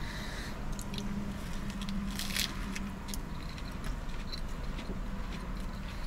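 Close, quiet bites and chewing of a crunchy breaded chicken sandwich from A&W, with soft crackling crunches and moist squishing in an irregular rhythm, heard alone.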